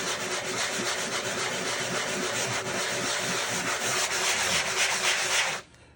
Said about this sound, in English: gonna sand these areas a little more